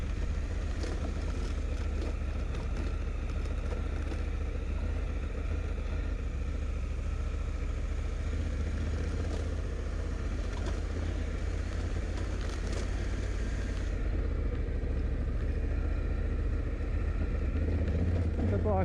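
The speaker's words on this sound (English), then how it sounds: "The bike's just cruising nicely." A Honda Africa Twin DCT motorcycle in automatic mode cruises in second gear down an off-road track, its engine a steady low rumble beneath wind noise, with someone talking over it.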